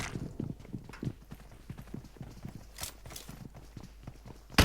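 Quick, steady footsteps of several players patter along in a mobile video game played on an iPad Mini 5, with a few sharper thuds and bursts of noise; fairly faint, no one speaking.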